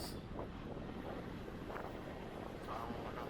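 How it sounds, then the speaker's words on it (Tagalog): Wind buffets the microphone on the open upper deck of a sightseeing bus in Sydney, a steady loud broadband rush with low rumble throughout, faint traffic beneath. "Mahangin sa taas."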